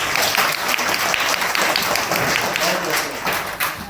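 A hall audience claps for hospitality management students at a college National Science Day celebration, steady dense applause of many hands throughout.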